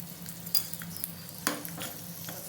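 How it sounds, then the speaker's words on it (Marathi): Tadka of mustard seeds, hing and a dry red chili frying in hot oil, a quiet crackling sizzle broken by a few sharp pops and the clink of a stirring spoon against the pan. "आपण एक तडका तयार करू. त्यामध्ये मोहरी घालू"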